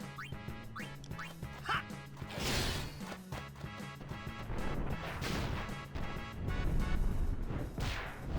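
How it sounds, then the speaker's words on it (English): Video game bombs exploding in repeated crashing blasts and thuds, layered over busy game music and effects, with quacking bird-like sounds early on; the bursts build toward the end and stay loud and dense throughout. "Bombs."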